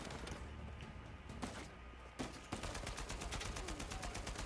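Rapid automatic AK rifle fire in the Uncharted 4 video game, a loud sustained burst of closely spaced shots dominating the last half, preceded by a few scattered single shots and impacts.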